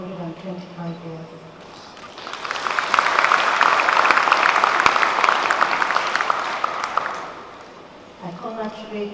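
Audience applause at a FirstBank 125th anniversary commemorative lecture swells from scattered claps into a full, steady ovation that fades after about six seconds, with a speaking voice before and after it.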